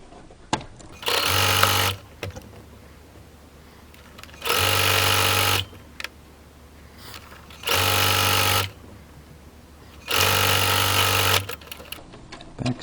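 A sewing machine stitching a fabric face mask in four separate loud, close bursts of steady motor whir, each one or two seconds long, with quiet handling noises in the pauses between them.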